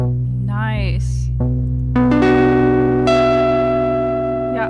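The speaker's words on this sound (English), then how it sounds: "I love that slight like that distortion" Arturia PolyBrute synthesizer run through slight Germanium distortion, playing sustained notes, a pitch sweep and stacked chords with buzzy harmonics, loud and close.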